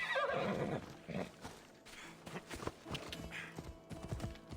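A horse whinnies loudly at the start in Assassin's Creed Odyssey, followed by scattered clip-clopping hoof sounds and thuds at moderate volume.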